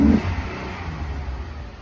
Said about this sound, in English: Now we're gonna go ahead and start it, and I should be able to rev it up just fine now.